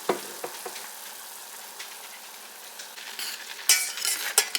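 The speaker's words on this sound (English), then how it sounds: "I'm gonna give it a quick little stir." A spoon scrapes and stirs minute rice in a pot of boiling water over a soft bubbling hiss, with a few louder clinks toward the end.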